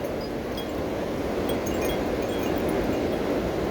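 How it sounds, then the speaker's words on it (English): Strong wind blowing outdoors during an unusually fierce storm, a loud continuous roaring rush with buffeting against the microphone throughout, and no voices. "I don't know that I've ever seen wind like this here."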